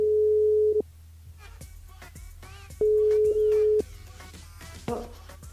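Two long, steady telephone ringback tones sound over the line during a live French radio broadcast while the station calls a listener, separated by a pause with faint background voices.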